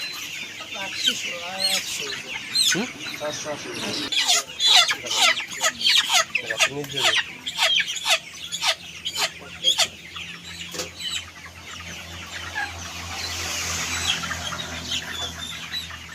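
Chickens on a poultry farm cluck and squawk repeatedly in close, busy bursts through the first half, then thin out to sparse calls over a low steady hum.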